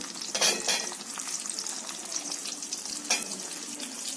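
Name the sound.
frying onions and carrot pieces for vegetable biryani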